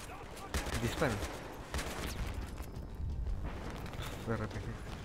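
Bursts of Battlefield 3 campaign gunfire crackle in rapid volleys, with voices talking over the shooting.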